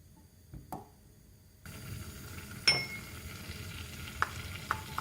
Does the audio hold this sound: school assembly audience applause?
no